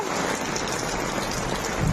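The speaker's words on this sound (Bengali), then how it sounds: "বৃষ্টি হচ্ছে আর আমি ছাতা মাথায় দিয়ে বৃষ্টির মধ্যে ভিডিও বানাচ্ছি" Steady rain falls in a dense, even hiss, heard from under an umbrella, close and continuous throughout.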